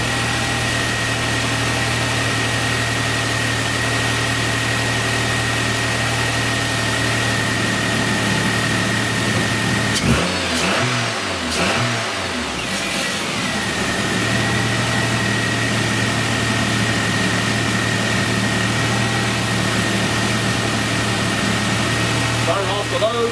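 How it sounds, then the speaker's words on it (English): A 2010 Nissan Altima engine idles steadily with its high beams and blower motor switched on, a constant low hum and drone that is briefly disturbed by rumbling handling noise partway through. "Turn high beams and blower motor on, idle engine."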